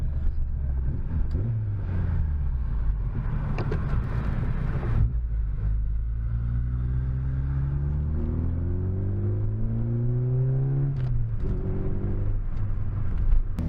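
A VW Golf MK2 with a newly fitted exhaust rumbles and revs nearby, its engine note rising and falling through several accelerations, with a few sharp pops and bangs scattered between the revs.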